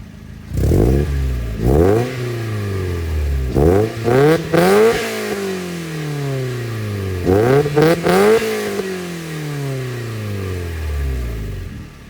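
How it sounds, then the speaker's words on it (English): Mazda Miata NB with a newly fitted full exhaust, revved in several sharp bursts that rise and fall back to idle, loud and close, with brief pauses between the throttle blips. "that was a little bit of revving"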